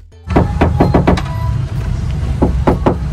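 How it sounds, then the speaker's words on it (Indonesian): Repeated sharp knocks on the bare metal body panel of a 2022 Toyota Innova with no sound-deadening installed, each ringing with a hollow, resonant echo; close and loud, in an irregular series. "kalau belum pasang perdam, kita ketok bodinya akan seperti ini guys"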